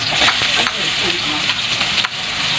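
Onion frying with garlic and ginger in a pan for spicy chicken Bicol Express, a dense continuous sizzle close by with quick stirring clatters throughout.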